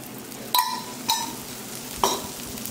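Dosa batter cooks on a pan with oil around it, a low sizzle under three sharp, ringing metal clinks spaced about half a second to a second apart.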